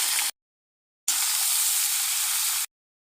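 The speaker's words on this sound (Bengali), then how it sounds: "এখন আলুগুলো ঢেলে দেওয়া হলো।" Potatoes tipped into hot oil with bay leaves sizzle loudly and steadily, a short burst of frying, a pause, then a longer unbroken sizzle close by with no talking.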